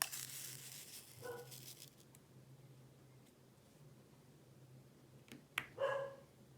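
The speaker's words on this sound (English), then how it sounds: "I don't know what he's barking at now." A dog barks a couple of times some distance away, short sharp yelps standing out against a quiet room with a low steady hum.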